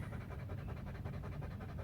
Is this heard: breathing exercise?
yes